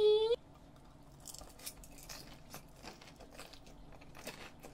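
Crispy Yuringi fried chicken, coated in a chili soy sauce, is bitten and chewed up close in a series of faint, irregular crunches after a brief electronic tone.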